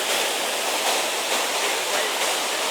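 Rapids on the Chattahoochee River rush past, a loud, steady, broadband roar of whitewater close by, unbroken throughout.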